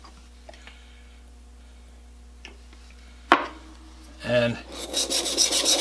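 Abrasive rasping of a blade drawn across the coarse side of a sharpening stone while removing a wire edge, preceded by faint clicks, a sharp knock and a short scrape, with a brief spoken word in between.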